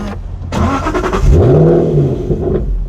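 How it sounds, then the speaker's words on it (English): An Aston Martin Vantage GT8 revs loudly up close with the exhaust valve open, its engine note rising and falling through a single sweep and ending in a short backfire pop, with no talking. "I like that little backfire pop."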